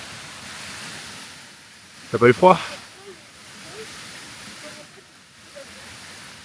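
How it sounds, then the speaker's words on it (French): Steady rushing roar of a nearby waterfall in the Auvergne volcano country, a constant broad wash of water noise with a short spoken question breaking over it. "C'est bien dormir à côté d'une cascade?"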